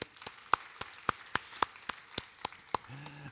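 A church congregation claps in unison, about a dozen evenly spaced claps at a steady beat, fairly soft and slightly distant in a reverberant hall.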